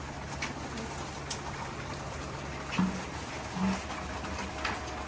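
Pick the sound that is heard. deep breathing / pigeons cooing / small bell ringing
pigeons cooing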